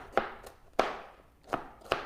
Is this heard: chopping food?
yes